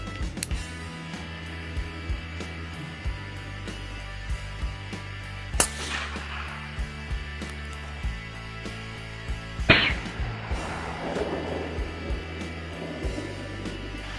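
Two sharp rifle reports while deer hunting in Kansas, the first a distant crack near the middle and a second booming shot a few seconds later, over a steady low hum of outdoor background noise.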